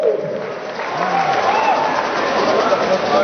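Audience applause and cheering at a lecture hall event, a steady dense wash of clapping and crowd noise sustained throughout, fairly loud and close, with voices mixed in.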